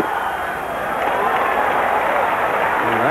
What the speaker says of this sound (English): That got a few woos out of the crowd.